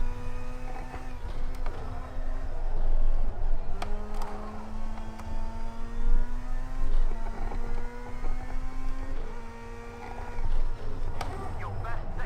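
Rallycross car engine from Project CARS 2 pulling through third gear at Lydden Hill, a steady buzzing drone with rising pitch sweeps and gear changes, under a voice talking.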